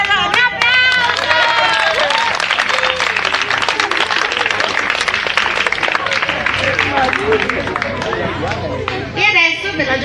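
Loud, dense audience applause and cheering at the final performance of an amateur theatre course run by the Ottone Pro Loco, sustained for about ten seconds with excited voices and chatter mixed into the clapping.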